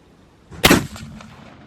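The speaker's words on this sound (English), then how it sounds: "So this was the first time I've ever shot a 50 caliber." A single thunderous crack from a 50 caliber rifle firing a 750 grain AMAX round at a milk jug outdoors, with a short rumbling tail.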